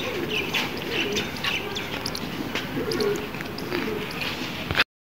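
A captured pigeon coos softly in short repeated calls, close and fairly quiet, over a steady outdoor hiss with faint chirps around it.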